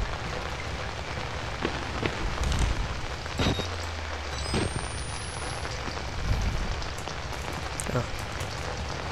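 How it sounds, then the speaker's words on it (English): Rain pours down in the horror video game Outlast, a steady dense patter on surfaces with a few louder thuds and splashes, constant and fairly close throughout. "Just chilling in the rain."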